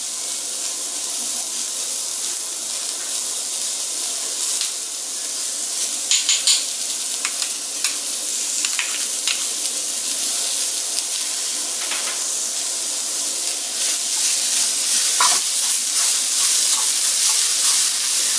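Garlic and ginger stir-frying in a pan for shrimp noodles make a continuous close sizzle with scattered crackles and a few louder pops and scrapes of stirring throughout.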